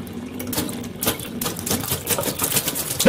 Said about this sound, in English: What do you think that jumping on jets of water sounds like?